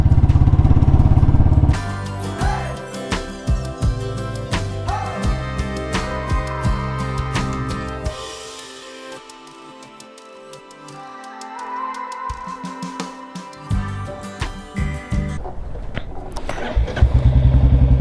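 A Royal Enfield Classic 350 motorcycle engine runs loud and close with a steady thumping idle, revs up and down, dips quieter partway through, then rises again.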